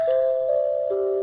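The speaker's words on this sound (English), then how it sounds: "Ooh, listen to that doorbell. Chopin," A doorbell rings out a short Chopin melody in clear, sustained tones, a few descending chime notes with no voices over it.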